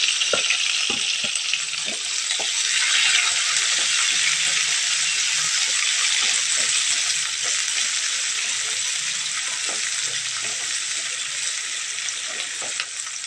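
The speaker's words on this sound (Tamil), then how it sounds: "நம்ம இப்போ வெங்காயம் போட்டு நல்லா வதக்கணும்" Onions fry in a pan with oil and browned urad dal for a homemade sundakkai kuzhambu. A loud, steady hiss of sizzling runs throughout, broken by soft clinks and scrapes of stirring.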